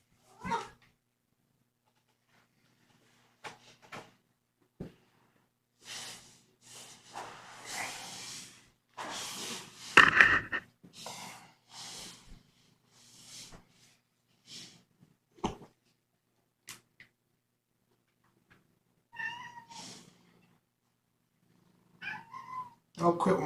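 Kittens meow in short, scattered cries near their food bowl at bedtime, some louder and whiny, separated by quiet gaps, with a person talking softly among them.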